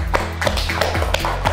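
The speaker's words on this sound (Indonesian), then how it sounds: "Tepuk tangan." Students in a school chemistry class clap together in a quick, regular rhythm of sharp claps over a steady low hum, close by.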